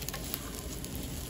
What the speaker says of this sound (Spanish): Y ya pues por acá estoy terminándolo de freír.